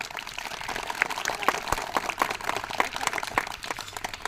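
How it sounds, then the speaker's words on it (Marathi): Children and an audience at a school fun-games event clap in scattered, uneven bursts to welcome the runners, with the applause fairly faint and sparse rather than a full ovation. "टाळ्या वाजवून स्वागत करा"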